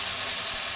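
Ground spice and tomato paste for a crab gravy hit a hot pan with a brief, steady, loud sizzling hiss, close up and without any voices.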